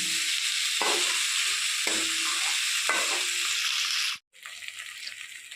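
Turmeric being stirred into a fish curry in a pan, a continuous close sizzle with scraping stirs, a brief dropout near the end before the frying resumes.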